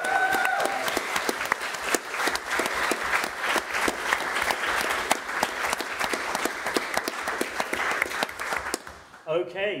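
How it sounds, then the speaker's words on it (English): Sustained audience applause at a botanical university challenge final, many hands clapping in a dense, even stream for several seconds, with a brief voice at the start and the clapping fading out at the very end. "Round of applause for Paul Ashton."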